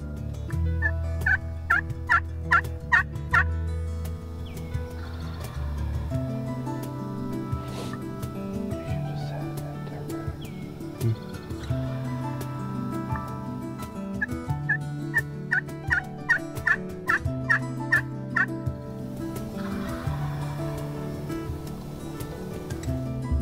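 Wild turkey gobbler answering calls during a spring turkey hunt in the Carolinas, two bursts of rapid rattling gobbles some distance off, separated by quieter woodland ambience with low rumble beneath.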